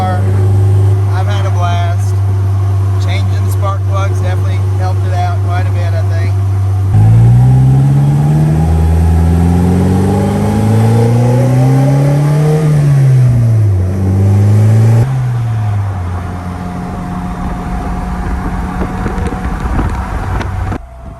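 Car engine on the year's first drive, loud and close, holding steady then revving up and down through rising and falling pitch sweeps, with wind noise and a voice talking early on.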